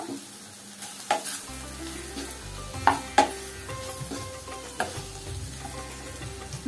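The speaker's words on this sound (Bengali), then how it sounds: "দিয়ে ভালো করে নাড়িয়ে নেব" Ground spices, chilli, cumin and coriander powder, stirred in a sizzling frying pan for masala bhindi, with a steady fry hiss and a few sharp spoon scrapes and taps against the pan, close and alone.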